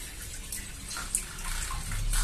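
A Toshiba washing machine drains its water, a steady close rushing and gurgling flow that swells slightly toward the end, with no talking over it.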